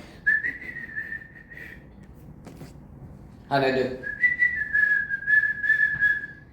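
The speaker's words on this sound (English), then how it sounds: "now I can whistle finally" A person whistles a clear tune in two phrases, broken by a short spoken question in the middle, close and fairly quiet.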